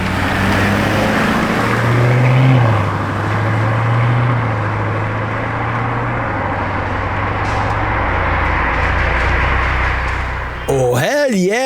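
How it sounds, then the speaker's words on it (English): A Lamborghini Urus drives past with a loud, sustained engine roar that swells around the middle, then fades, cut short by a brief voice at the end. "Hey! Another Urus."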